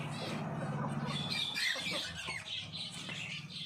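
Pet lovebirds, finches and cockatiels squawk and chirp together in an aviary on a farm, a steady busy chatter of high calls with close squeals over a constant background hum.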